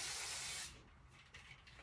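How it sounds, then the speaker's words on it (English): A short, loud hiss of hairspray that stops abruptly after under a second, followed by quiet room noise. "spraying it again with the hairspray"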